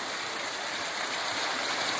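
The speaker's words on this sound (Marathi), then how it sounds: "अजून धनगर वॉटरफॉल आहे." Steady broadband rush of water from the Dhangar waterfall and its clear flowing stream, a continuous close wash with no breaks and no voices.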